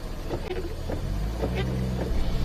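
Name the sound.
Mini's wheels spinning in snow, diff lock engaged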